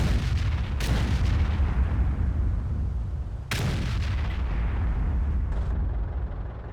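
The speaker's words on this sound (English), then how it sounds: "I think I got a turret shot there." Two heavy tank cannon shots boom in a World of Tanks battle, each a sharp blast with a long rumbling tail, over continuous loud engine and battle noise, with no speech.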